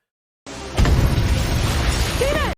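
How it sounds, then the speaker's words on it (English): In a Moon Knight scene, glass shatters as a cane hits the ground: a sudden loud crash with a burst of breaking, tinkling glass, then a sustained dense rumble of debris and tumult. "you actually hear glass shattering as his cane hits the ground"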